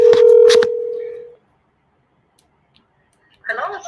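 A phone places a voice call on speakerphone: a loud steady tone broken by a couple of dialing beeps fades out, followed by near silence, then a voice answers faintly through the speaker.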